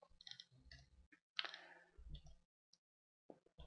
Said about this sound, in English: So I click yes.